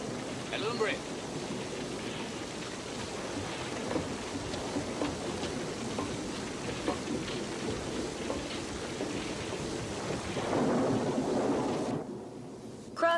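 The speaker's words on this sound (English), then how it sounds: "Come on in out of the rain!" Steady downpour in a western movie scene: a dense, even hiss of rain with a low rumble beneath it, under shouting and talking voices, before cutting off abruptly at the end.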